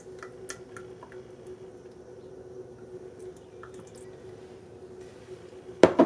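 Herb-infused oil dripping as it is strained, with scattered faint drips over a low steady hum and a louder splashing burst near the end, no voices.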